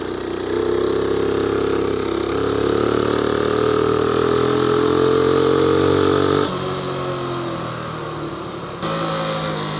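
A motorcycle engine idles at a junction, a steady, close, mid-pitched rumble with a slight rise in pitch and a couple of abrupt shifts in tone, with no talking.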